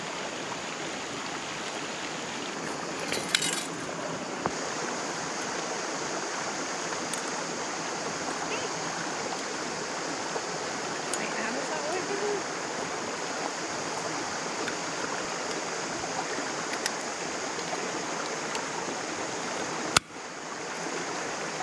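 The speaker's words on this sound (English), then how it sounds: "I'd come back to the place where I know the water is running and beautiful" Stream water runs steadily in the Australian outback, a constant close rushing and babbling wash with no pauses, with a couple of faint clicks over the flow.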